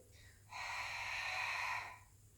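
A single long, audible breath in through the nose during a Pilates exercise, close and alone, rising after a brief quiet and fading out.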